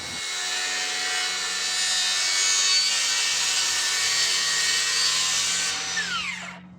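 A DEWALT FLEXVOLT circular saw cuts wood freehand for a lawn chair part in one steady, loud, close whine that winds down at the end.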